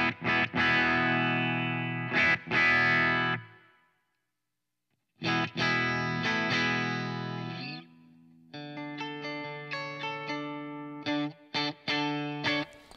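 Electric guitar through a high-gain overdrive pedal, loud sustained distorted chords that ring out, break into a short silence, then return before switching to choppier, more staccato playing.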